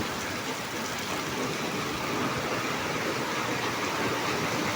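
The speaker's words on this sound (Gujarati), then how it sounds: "એવો વરસાદ ચાલુ છે." Heavy rain pours down steadily during a thunderstorm at night, a dense, unbroken wash of noise that stays loud and even throughout with no pauses.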